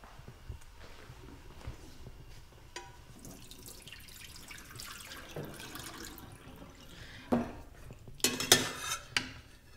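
Boiled tofu is drained in a kitchen sink into a colander, with soft trickling water and light clatter of dishes that builds to a few louder clanks near the end, quiet and close.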